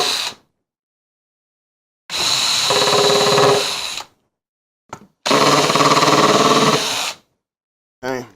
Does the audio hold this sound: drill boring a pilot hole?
yes